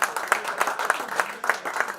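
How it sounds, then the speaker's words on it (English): An audience applauds in a hall after a speaker's announcement, steady rhythmic clapping with distinct hand claps at a moderate distance, fairly faint and alone. "give him a big round of applause"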